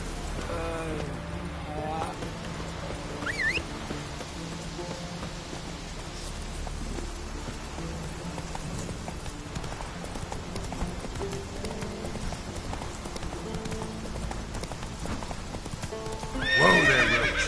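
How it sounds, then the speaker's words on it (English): A horse in The Witcher 3 video game clip-clops along at a steady pace, ending in a loud neigh, with a voice and background game music and ambience. "Whoa there, Roach."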